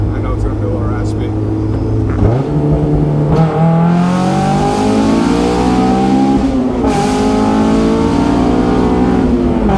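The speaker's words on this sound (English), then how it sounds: "I'm gonna do a little second gear rip, drop a gear, see how it sounds" A Honda S2000 engine revs hard in second gear, climbing in pitch, shifting, then climbing again with a loud, raspy, close roar throughout; a voice is also present.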